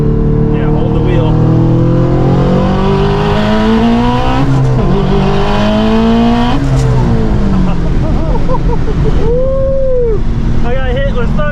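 Subaru STI under hard acceleration, its engine note rising and shifting through the gears, loud and close from inside the car, with people talking over it.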